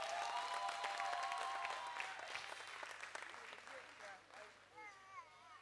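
Festival audience applause, a dense wash of clapping that starts strong, gradually thins and fades while voices and a low hum continue beneath.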